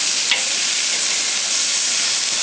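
Steaks hiss and crackle loudly in a hot pan just after being flipped, a steady dense sizzle running throughout with no talking.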